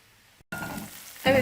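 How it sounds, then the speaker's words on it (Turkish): Onions and peppers sprinkled with salt sizzle in a frying pan, a short close hiss of frying that starts suddenly after a brief silence and swells at the end with a stir. "Bunlar pembeleşinceye kadar bir güzel kavuruyoruz arkadaşlar."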